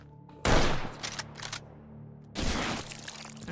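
A grenade detonates in the H3VR virtual reality shooter, giving a sharp, loud blast with a rumbling tail, followed about two seconds later by a second heavy burst.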